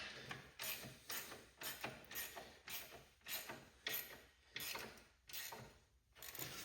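Ratchet wrench tightening a fitting on a Cub Cadet 1811 garden tractor's hydraulic lines, a quiet run of about ten quick clicking strokes in an even rhythm, heard close up with no talking.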